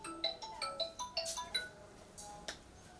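A faint mobile phone ringtone plays a quick, chirpy melody of short bright notes for a few seconds, heard alone without talking.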